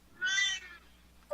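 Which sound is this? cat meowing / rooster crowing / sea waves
cat meowing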